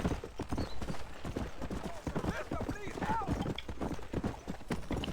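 Horse hooves clip-clop in a steady rhythm in the video game Red Dead Redemption, close and clear, while a person talks over them throughout.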